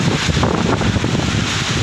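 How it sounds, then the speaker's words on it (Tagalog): Strong, gusty wind during Typhoon Odette roars steadily and loudly across the microphone, a dense unbroken rush with slight surges and no voices. "medyo malakas na yung hangin pabugso-bugso"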